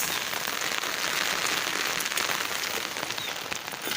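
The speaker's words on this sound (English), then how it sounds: "It's raining very badly" Heavy rain pours down outdoors while fish are cleaned, a dense, steady hiss of drops drumming on surfaces, loud and unbroken throughout.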